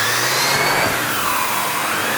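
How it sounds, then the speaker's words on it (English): Central vacuum roaring steadily through a Wessel Werk TK 286 turbo nozzle, a loud continuous motor-and-airflow whoosh with a bright hiss and a slight dip in pitch, no voices. "So if I turn this on with the central vacuum"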